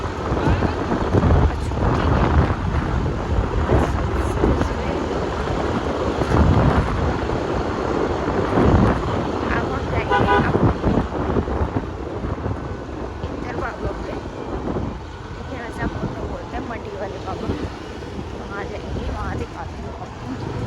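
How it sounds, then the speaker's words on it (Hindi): Cold morning wind blows across an outdoor microphone at a roadside shrine, a steady rumbling roar with gusts that rises and falls throughout, under a voice talking. "सुबह सुबह यार बहुत ठंडी हवा लग रही है।"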